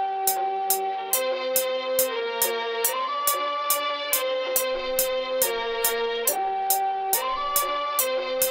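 Trap beat verse built on a sample from Satyajit Ray's film Nayak: a looping melodic tonal sample switching chords every couple of beats, with crisp rapid hi-hat ticks marking a steady rhythm throughout.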